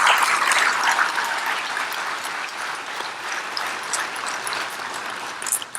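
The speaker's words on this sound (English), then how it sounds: "a round of applause for you 2018 Deputies of the Month" An audience at a sheriff's awards ceremony claps steadily for the 2018 Deputies of the Month, a dense, even wash of many hands lasting throughout without pause.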